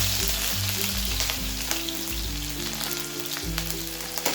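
Garlic and ginger sizzle steadily in hot oil in a wok over a high flame, a close, constant crackling fry with occasional stirring scrapes and no talk.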